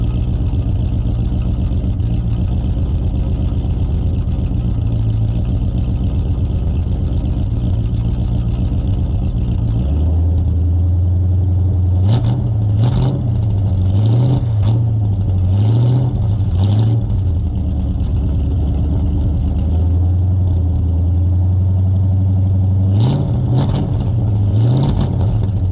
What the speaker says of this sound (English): see if I can get it to make some happy 318 sounds